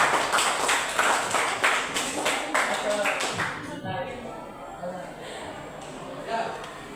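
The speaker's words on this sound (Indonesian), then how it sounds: "Tepuk tangan untuk kelompok dua." A group applauds a classroom team. Rapid clapping runs for about three and a half seconds and then stops, leaving a quiet room with faint voices.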